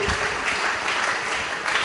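A church congregation claps during a pastor's sermon, the applause a dense, even wash of many hands that holds steady and fairly close for the whole stretch.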